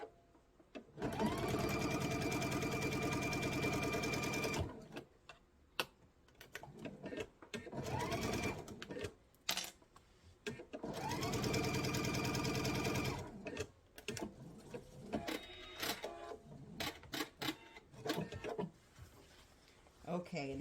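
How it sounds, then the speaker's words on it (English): A sewing machine runs a quarter-inch seam across a quilted table runner in two long, steady passes of a few seconds each. Between the passes come clicks, fabric handling and brief bits of talk. "I'm going to sew 1/4 inch seam down across this one as well."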